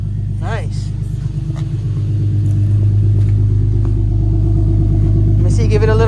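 A 2013 Infiniti G37 engine idles with a deep steady rumble that swells slightly as it is revved, close and loud, while people talk over it.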